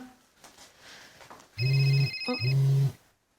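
A mobile phone ringing nearby, two loud, steady electronic rings separated by a short gap, after a stretch of quiet background.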